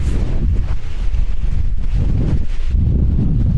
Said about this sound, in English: the wind is not disappointing us